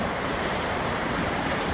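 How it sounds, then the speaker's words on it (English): Ocean surf rushes in a continuous, loud, close roar, with wind adding to the wash of the waves and no other sounds. "the sound of the ocean"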